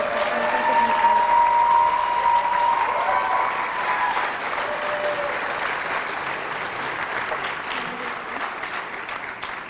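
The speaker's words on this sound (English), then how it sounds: "May I request another round of applause to celebrate these young minds and their exceptional contributions." Sustained audience applause at a Martin Luther King Jr. community celebration, a steady wash of clapping from a sizeable crowd that peaks early and slowly tapers over several seconds.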